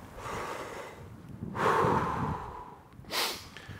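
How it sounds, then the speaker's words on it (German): Deep breathing in and out during an ice bath in cold water, with two strong exhalations around the middle and end of the clip. "Ein- und ausatmen."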